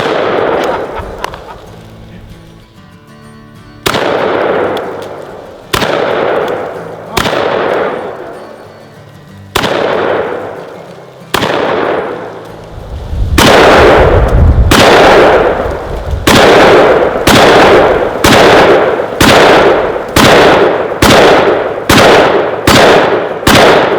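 Repeated loud gunshots from Desert Eagle handguns and shotguns at an outdoor shooting range, sharp blasts with ringing decay arriving irregularly at first, then in a rapid steady string near the end.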